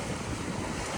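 Sea wind blows steadily at a beach in Korea, a brief, continuous, broadband rush of air with no voices.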